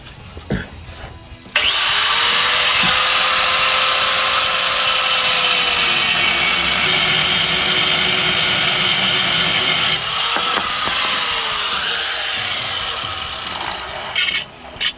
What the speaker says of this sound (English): we're going to cut the tops of the U-bolts, one on the inside of the axle and one on the outside of the axle